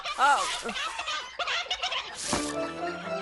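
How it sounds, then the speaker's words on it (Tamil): Angry cartoon hen squawking, loud shrill clucks and gobble-like cries in rapid bursts, mixed with excited animated voices speaking over the commotion. "வேணாம், முரட்டு கோழியா இருக்கியே"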